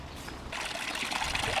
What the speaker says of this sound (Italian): acqua di montagna